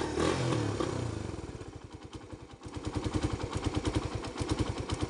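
Raider 150 motorcycle engine revved high during carburetor tuning, a loud, close, rapid pulsing exhaust beat that dips slightly midway then surges back, running steadily throughout with no voices.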